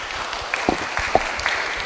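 Audience applause for a lower secondary student group after their project presentation, a short burst of dense clapping in a room that rises and fades within about two seconds.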